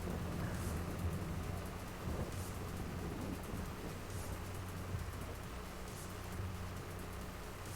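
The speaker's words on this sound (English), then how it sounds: "I wish this rain would go away." Steady rain with low rumbling thunder from a video game, a continuous wash of rainfall under a deep rolling undertone and occasional brighter gusts, fairly loud and with no talking.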